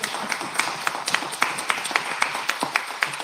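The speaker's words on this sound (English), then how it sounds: "can you please clap for Madison" Audience applause at a live homebrew awards show, a dense patter of hand claps with sharper individual claps popping out, steady and moderately close throughout.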